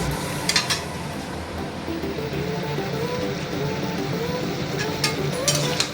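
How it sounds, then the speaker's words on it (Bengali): Chicken with fried onions stirred in a pan, a continuous sizzle under repeated scraping of a spoon against the metal, with a couple of sharper clinks early and near the end. "এবার এটাকে ভালো করে মিক্সড করে নেব।"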